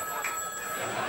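A telephone rings with thin, steady tones, fairly faint against a hissy background and continuing without a break.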